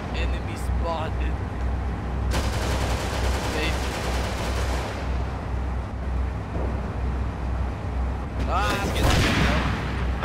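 Bursts of gunfire in the Arma 3 video game during a tank battle, sharp cracking volleys with a heavy burst near the start and more bursts toward the end, over a low rumbling engine drone.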